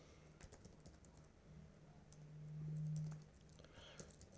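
A password is typed on a computer keyboard as a short, quiet patter of scattered key clicks in a hushed room.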